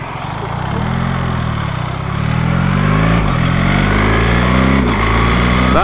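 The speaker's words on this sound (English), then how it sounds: "I'm definitely riding the bike slightly too quick over those bumps." A BMW R 1300GSA motorcycle rides over bumps, its engine loud and close with a steady drone that climbs in pitch as the ride goes on.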